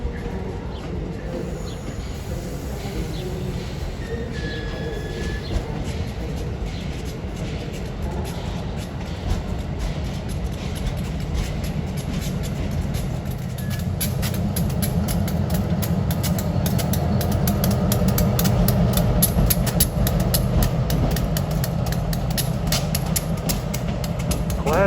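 Train equipment backing into a Washington DC area station, a low idling engine rumble building into rolling railcar noise with rhythmic rail clatter toward the end, moderately distant and steady.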